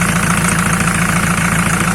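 A homemade tractor engine fitted with a homemade straight-through muffler runs steadily up close, a loud, deep, continuous idle rumble with an even pulsing beat and no breaks.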